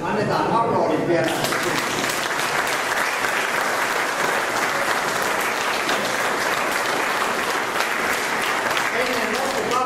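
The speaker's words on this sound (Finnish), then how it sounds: "Annetaan aplodit vielä." A seminar audience in Finland applauds loudly and continuously, a dense wash of clapping that fills the whole stretch, with a brief voice near the start.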